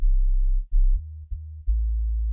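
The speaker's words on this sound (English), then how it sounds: "sub bass" Isolated sub bass from a music mix, deep sine-like low tones held in a few sustained notes with brief gaps between them, clean and alone with no other instruments.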